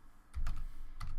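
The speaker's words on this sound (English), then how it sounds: "you're gonna start like typing" Keys on a computer keyboard clatter in a short, quick burst of clicks, close and quiet, with no voices.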